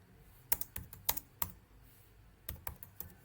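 Sparse, crisp keystrokes on a computer keyboard, a few quick taps in small clusters with pauses between, close and fairly quiet in an otherwise still room.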